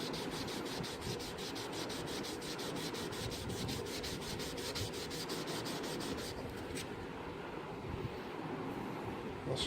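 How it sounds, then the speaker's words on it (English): Fine 1200-grit sandpaper rubs steadily along the bevel of a handmade knife blade in quick, even back-and-forth strokes, a close, continuous gritty hiss that carries on alone for nearly ten seconds. "This is 1200 grit sandpaper. Trying to run with the grain of the original bevel,"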